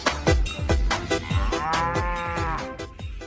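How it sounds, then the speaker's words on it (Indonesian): A mother water buffalo with long horns and grey colouring lows near her calf, giving a series of loud, close moos and grunts in quick succession, with one longer drawn-out call in the middle. "Widih, ini ada induk kerbau."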